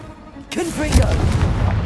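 A Confringo blasting spell explodes in Hogwarts Legacy, a sudden booming burst after a brief quiet lead-in, followed by rumbling decay and overlapping game effects.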